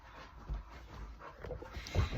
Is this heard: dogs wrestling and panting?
yes